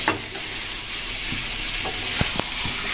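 Masala paste sizzling and frying in oil in a pan for a green jackfruit curry, with steady hiss and a few soft scraping stirs of a spatula, close and continuous with no talk.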